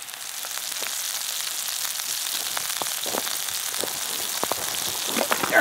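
Food sizzles steadily on a Solo Stove camp stove running hot, a continuous crackling hiss with scattered sharp pops, close and unbroken by talk.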